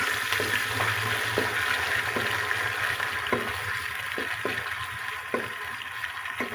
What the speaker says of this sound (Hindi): अब मैं प्याज डाल रही हूँ। ऑयल गर्म हो चुका है।